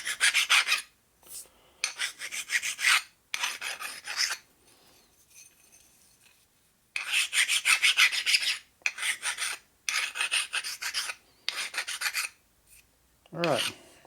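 A hand file rasps across a custom metal bracket for a Harley in loud, close bursts of rhythmic strokes, separated by short quiet pauses.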